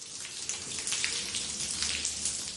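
Water leaks through a ceiling in a London hospital, a steady hiss of splashing and pattering drops heard close and continuous, with no voices.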